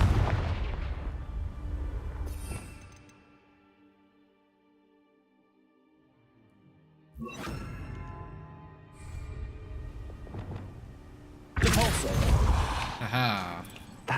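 Blasting spell explosions in a Hogwarts fantasy video game: heavy booming blasts with rumbling tails, a loud burst at the start, then a quieter spell swoosh and two more thunderous explosions, with a voice talking over the game.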